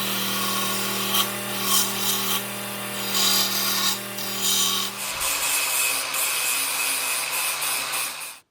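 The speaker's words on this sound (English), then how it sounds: "once it's on, you just grind until you start to see sparks" Grinding a knife handle down toward the metal tang on a powered grinder: a loud, continuous abrasive rasp over a steady motor hum, shifting in tone about midway, then cutting off at the end with no talk.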